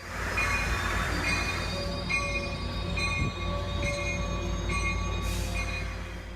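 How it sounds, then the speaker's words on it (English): A southbound Coaster commuter train rolls into a downtown station at the historic Santa Fe Depot in San Diego County, a loud steady rumble with sustained high wheel squeal and brake tones sliding in and out over several seconds. "a southbound coaster commuter train rolls in"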